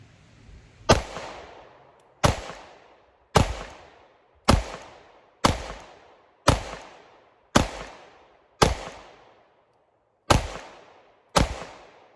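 Glock 26 Gen 5 subcompact pistol fired at a 10-yard range, ten sharp, loud shots spaced evenly about a second apart, with a short pause before the last two, each cracking report decaying quickly with no talking.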